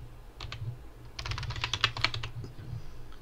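Computer keyboard keys clatter as someone types, a few isolated taps and then a quick, busy burst of clicks, close and fairly loud, with no talking.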